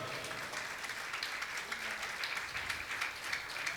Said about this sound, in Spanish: dele aplausos.